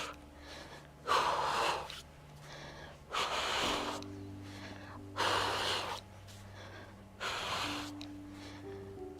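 Slow, audible breaths during a Pilates exercise, four or five long inhales and exhales in an even rhythm, close and fairly soft, with a faint low hum underneath.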